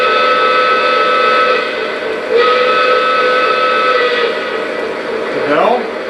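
A Lionel conventional 2-6-0 Mogul model steam locomotive sounds its steam whistle, a loud, steady, multi-toned blast held for several seconds that bends downward in pitch as it ends, heard up close.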